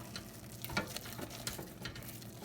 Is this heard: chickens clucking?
no